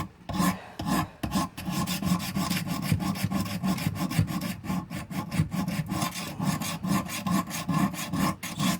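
A knife blade scrubbed back and forth on Wicked Edge sharpening stones, a rapid, continuous rasping rhythm of short strokes, close and fairly loud.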